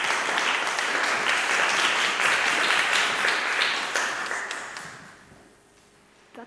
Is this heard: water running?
no